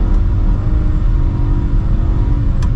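A BMW E46 drift car engine held at full throttle on a mountain road, a loud, dense, sustained roar of revving and tyre-driven rumble across the whole moment, with no voices.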